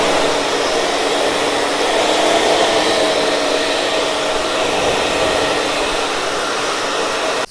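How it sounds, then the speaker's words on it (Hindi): A hair dryer blows on freshly shampooed hair, giving a loud, steady, continuous whoosh that holds unchanged throughout with no voices. "तो अच्छे से ड्रायर कर देना है।"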